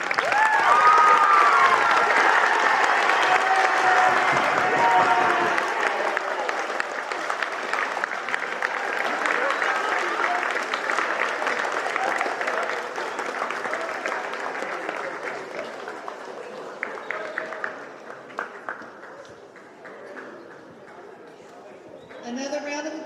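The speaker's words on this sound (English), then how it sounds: "Another round of applause for our mathematicians." Audience at a school awards assembly breaks into sustained applause, loud at first and slowly thinning out over about twenty seconds, with scattered voices in the crowd.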